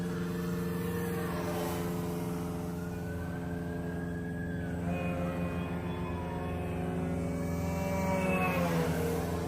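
Full-scale airplane flying overhead outdoors, a steady droning engine hum with slowly shifting tones that rises slightly toward the end, with no talking.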